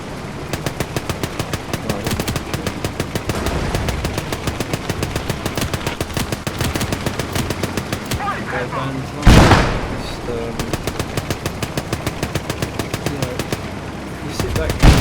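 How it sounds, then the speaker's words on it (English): Rapid, steady machine-gun bursts in the World War II game Gates of Hell, firing continuously at close range with a loud blast near the middle, while someone talks over the gunfire. "I think there was some machine gun fire going on"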